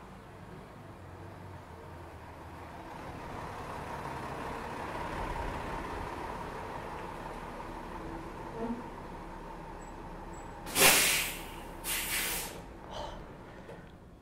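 A truck recorded outdoors in Aspen, Colorado, with a low engine rumble under a quiet ambient hiss and a sharp, loud hissing burst, like an air brake, followed by softer clatter near the end.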